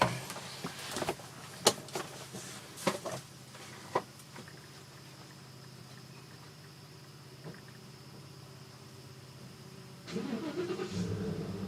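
A vehicle engine cranks and catches near the end, settling into a low running rumble after several quiet clicks and knocks.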